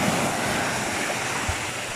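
Sea waves washing against a rocky shoreline, a steady broadband wash of surf with light wind noise and no talk, heard close and continuous.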